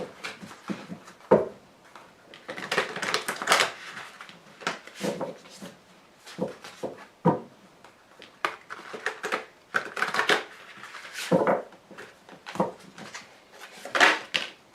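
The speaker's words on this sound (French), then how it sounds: "je vais recouvrir le jeu avec le tarot du Lucid Dreams" Lucid Dreams tarot cards slapped and slid down over an existing spread in a reading, with repeated close papery flicks and soft thuds in irregular bursts.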